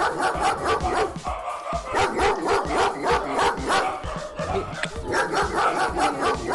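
Several dogs bark repeatedly along a narrow rural path near a sunflower farm in Nueva Vizcaya, Philippines, with loud, overlapping barks and yips close by in quick succession.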